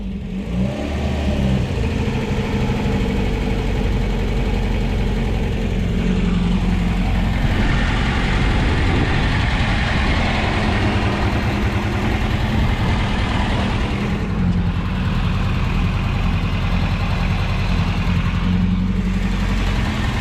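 Honda Integra DB1 with a B18C1 engine idling right after its first start, a loud, close, steady engine rumble with slight throttle swells and a small revving rise near the start, no talking.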